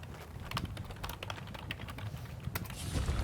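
Rapid, irregular keystrokes on a computer keyboard during a Guild Wars 2 session, crisp close clicks tapping steadily for a few seconds with no talk over them.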